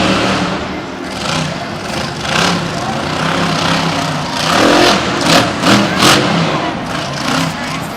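A faulty Monster Jam monster truck at Tampa 2016 revs and strains in surging bursts, engine roar rising and falling over crowd noise, with commentators talking over it.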